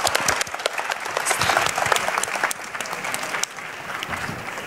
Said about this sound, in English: as you give Indy and Ejmal a big round of applause